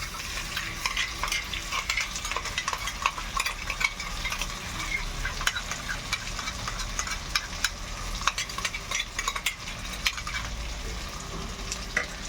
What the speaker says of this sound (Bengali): কাজু চারমগজ দানা পেস্টটা আমরা মিশিয়ে দিলাম